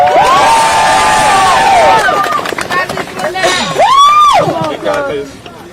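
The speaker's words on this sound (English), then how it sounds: "Give her a big round of applause" Crowd at an outdoor vigil cheering and shouting, with loud voices and whoops rising over steady crowd noise and babble, then fading near the end.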